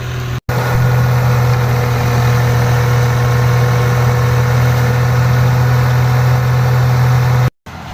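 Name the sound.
engine-driven peanut harvesting machine running in a field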